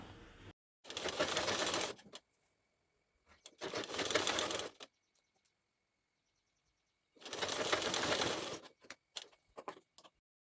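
An electric sewing machine stitches a pocket onto a kurti in three separate bursts of fast, buzzing needle chatter, each one to two seconds long, with quiet handling clicks between them.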